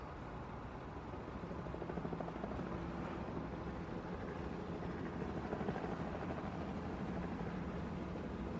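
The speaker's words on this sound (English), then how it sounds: "I could hear another sound. Not of rushing water, but of whirling blades." Continuous whirring thrum of helicopter rotor blades, steady and fairly loud, with a broad rushing noise and no voices.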